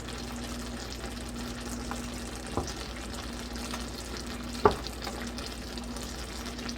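Ground hamburger meat frying in a pot to cook off fat and oil gives a quiet, steady sizzle, with a couple of soft spoon scrapes and taps as the meat is broken up; no talking.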